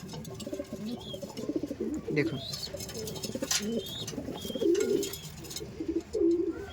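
Madrasi pigeons coo in low, throaty rolling calls, several birds overlapping close by, with someone talking briefly among them.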